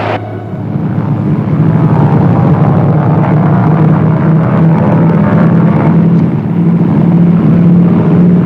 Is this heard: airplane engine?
yes